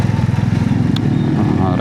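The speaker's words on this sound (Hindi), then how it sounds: "कुछ ज़्यादा ही आवाज़ आ रही है, तो मुझे लगा कोई अच्छा बाइक होगा" Motorcycle engine coming up from behind on an empty road, a loud throbbing putter that is close and steady, with someone talking over it.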